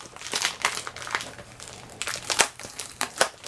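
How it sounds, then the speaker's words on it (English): A cardboard box holding a 2002 TOMY Thomas toy is torn open up close, with bursts of crinkling, ripping and crunching packaging in an irregular rhythm. "I managed to rip through the box a decent amount here"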